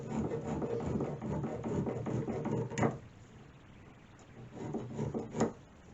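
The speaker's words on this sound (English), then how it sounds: "Just run your file across it, take those burrs off there." A metal file rasping across a workbench part to take off burrs, a run of scratchy strokes in two bursts with a quieter pause between, close and unaccompanied by talk.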